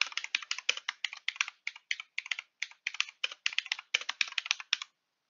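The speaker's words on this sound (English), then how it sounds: "Your title is centered and we type our title." Keys clatter on a computer keyboard as a paper title is typed, a quick close run of crisp, irregular taps in small clusters for about five seconds before stopping.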